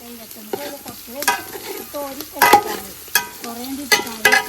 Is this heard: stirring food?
yes